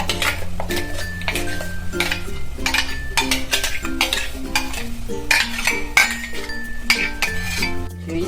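Tomato, onion and garlic gravy going into a pan for a gravy vada chana curry, with repeated metallic clinks of a spoon against the pan and steady stirring clatter, close and busy throughout.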